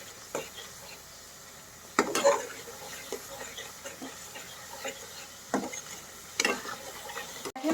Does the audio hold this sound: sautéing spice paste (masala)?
yes